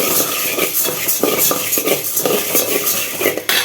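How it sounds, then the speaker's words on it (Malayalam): Urad dal being roasted in a pan for Pesaha appam: loud, busy scraping and rattling as the lentils are stirred against the metal, with occasional sharper clinks and a faint sizzle beneath. "അപ്പോൾ ഉഴുന്നൊന്ന് വറുത്ത് വെക്കട്ടെ"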